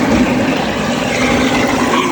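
A kitchen garbage disposal runs with a loud, steady motor whir and grinding drone close by, with hot water trickling in and no speech.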